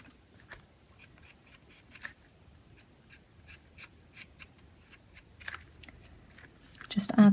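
A charcoal pencil and blending tool shade circles on an art journal page, light scratchy strokes coming in short bursts, faint and close, with a louder rustle at the end.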